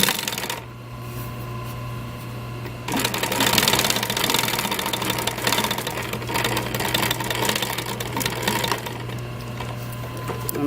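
A sewing machine runs close and continuously, stitching the upholstery of a car headrest with a fast mechanical whir and rattle, a brief pause early, then steady stitching to the end.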